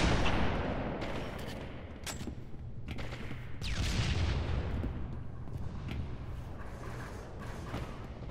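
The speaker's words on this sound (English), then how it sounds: "Plasma rifle and an SMG." Rapid bursts of plasma rifle and SMG gunfire in Halo 3 dual-wield multiplayer, sharp repeated shots and thumping impacts in loud clusters throughout, with no talk.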